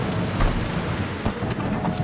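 Rain and thunder in the game Cyberpunk 2077: Phantom Liberty, a steady loud downpour with low rumbling thunder rolling throughout, no talk over it.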